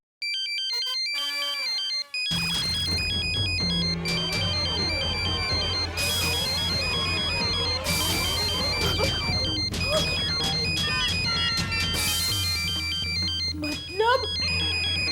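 A phone ringtone plays loudly and continuously, a bright repeating electronic melody with a steady rhythm running through the whole stretch, with background music and sound effects from a comedy show mixed underneath.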